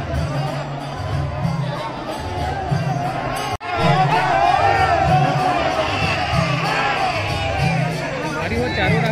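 A large, dense festival crowd at the Bana event in Bana Pendri village, Chhattisgarh, during Navratri, roars with loud continuous babble, shouting and cheering, a steady rhythmic beat running underneath and one brief dropout partway through.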